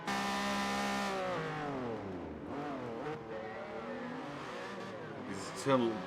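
'80s race cars in a racing video game scream through the final lap: a loud, harmonic engine whine that drops and climbs through gear changes, with a short tyre squeal near the end and a voice talking underneath.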